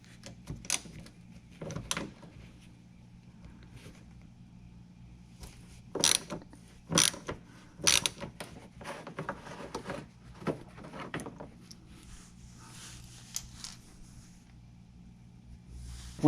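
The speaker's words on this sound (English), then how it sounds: "we can see a 10mm screw, and we'll go ahead and disconnect that" Small mechanical ratcheting clicks and clatters from a socket extension on a 10mm screw behind the fender panel of a Lexus SC430, coming in short separate bursts up close with quiet pauses between them.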